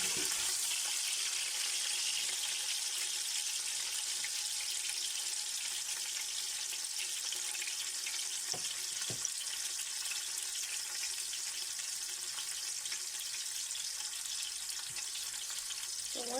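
Steady, close sizzling of onions frying in a pot for egusi soup, with occasional scrapes of stirring over a continuous hiss.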